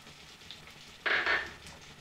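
Chopped onion dropped into hot oil with dried red chillies and cumin, giving a sudden loud sizzle that bursts up partway through and then settles into a softer frying hiss.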